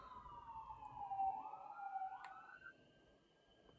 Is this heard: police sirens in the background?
yes